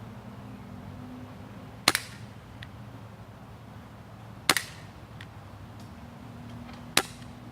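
Three sharp cracks from an HFC M27/28 Highway Patrolman airsoft revolver firing BBs at close-range targets, spaced a few seconds apart. Each shot is followed by a faint tick as the BB hits, over a low steady hum.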